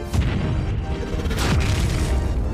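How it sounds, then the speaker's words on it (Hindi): A loud, dense rumbling blast fills the clip, with crashing debris and a second burst midway, a cannon explosion in Minecraft. "ये धमाका तो बहुत बड़ा है"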